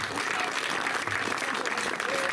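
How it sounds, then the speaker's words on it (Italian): An audience at a gathering applauds warmly, a thick, continuous patter of many hands clapping at once, loud and close throughout. "Un applauso"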